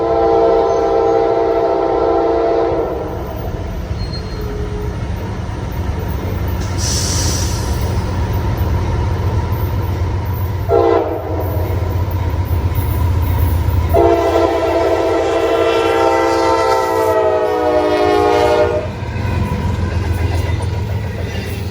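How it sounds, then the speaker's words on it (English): A southbound Norfolk Southern freight train rumbles past steadily between Locust Grove and Jenkinsburg, Georgia, its horn sounding in several long, loud blasts over the continuous roar of the cars. "I'm in place to catch southbound train 290 in between Locust Grove and Jenkinsburg."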